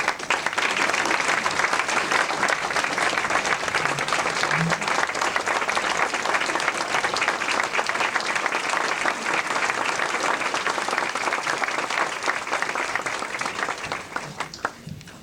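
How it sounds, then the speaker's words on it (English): Sustained, loud audience applause at a 1986 retirement roast, dense clapping from a full room that holds steady throughout and fades slightly at the very end. "give her just one beautiful round of applause"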